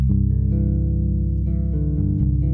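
Bass guitar plays a scale with its third degree altered, a sustained run of low, round, ringing notes moving step by step, close and steady with no voice.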